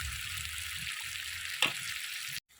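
Fish frying with spices in a pan, a steady close sizzle with a brief clatter of stirring midway, then cutting off abruptly to silence.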